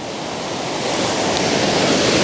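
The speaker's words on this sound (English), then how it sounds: "So that little waterfall on your left there, the overflow, is from the fields." A small overflow waterfall from fields at Fairy Falls, Betws-y-Coed, rushes steadily nearby, a full broad hiss of falling water that swells slightly and continues without voices.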